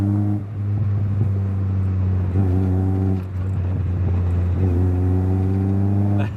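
A Mazda Miata fitted with a new big exhaust revs repeatedly up close, its deep droning note climbing and falling in several blips over a steady low rumble.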